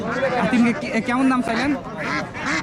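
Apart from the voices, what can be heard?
Chinese ducks quacking at cattle market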